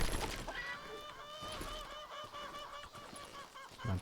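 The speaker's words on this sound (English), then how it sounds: "killing the chickens as I go by." Chickens in the Western shooter game Call of Juarez: Gunslinger clucking and squawking in a steady run of repeated calls, fairly close and continuous over a busy game background.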